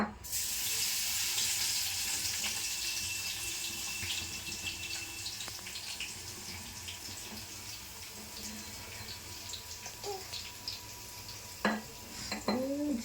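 Tap water runs steadily into a kitchen sink while curry leaves are rinsed under it, a close continuous splashing with scattered clinks and knocks of dishes and utensils toward the end.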